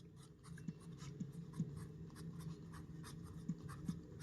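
Hand-writing a maths problem, working out the square root of 90 by long division: a soft, continuous pen or chalk scratching with a few sharper strokes and taps, close and quiet, with no talking.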